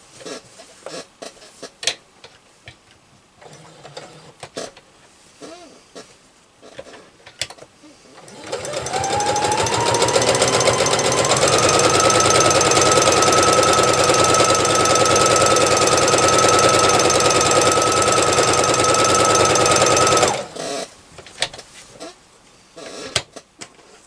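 A sewing machine stitches an hourglass quilt block in one loud, continuous whirring run of about twelve seconds, with quieter handling noises before and after and no talking over the stitching.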